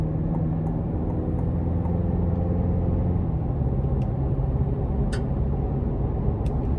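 A 2024 GMC Canyon AT4X pickup with the 2.7 TurboMax engine accelerates onto an interstate, heard from inside as a steady low engine and road rumble with a faint whine above it.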